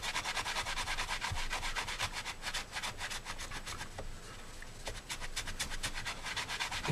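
Hand buffing of clear coat on a motorcycle fairing, a rapid rhythmic rubbing and scrubbing of steady strokes, close up and fairly quiet with no talk.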